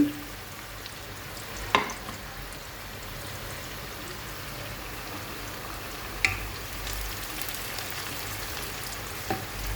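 Onions fry and are stirred in a pan with salt added, a steady broad sizzle with a few louder scraping knocks from the stirring, close and alone without talk.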